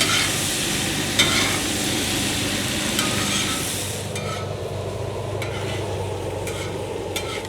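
Chicharrones of pure pork fat fry in a pan with a steady dense sizzle, broken by scraping stir strokes and occasional clinks of the utensil, close and continuous throughout.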